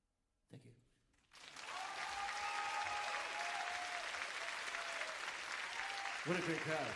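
An audience bursts into applause after a thump and a short pause, and the clapping swells into a steady dense roar while a voice talks over it and a louder rise comes near the end.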